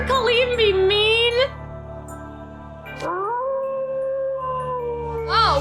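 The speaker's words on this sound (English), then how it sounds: "He's growling and baring his fangs." A werewolf in a Halloween horror video game gives long, wavering howls with sliding pitch, then a sustained droning cry, loud and close, with a voice briefly behind it.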